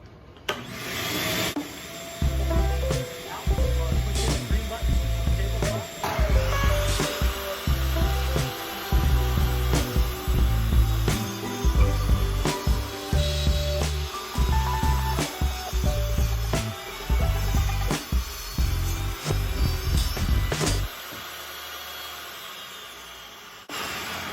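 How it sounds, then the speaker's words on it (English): A shop vacuum runs in a home woodworking shop during a standing desk build, a steady whine joined by repeated rhythmic bursts of sawing or cutting noise, then the machine winds down near the end. "I'm going to turn my vacuum on."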